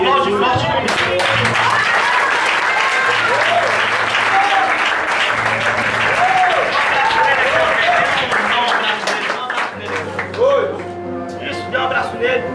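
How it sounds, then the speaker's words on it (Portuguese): A church congregation at a youth festival claps loudly and continuously, dense applause filling the space near and far, while voices call out and a keyboard plays underneath before the clapping thins near the end. "Aplaude forte o nome de Deus."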